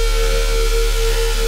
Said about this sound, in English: Flanger here is not doing too much.